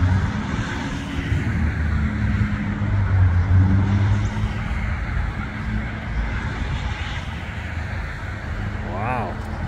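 A Ford Bronco Raptor arrives with a steady low engine rumble that swells and then holds, loud and close, while people talk and exclaim over it.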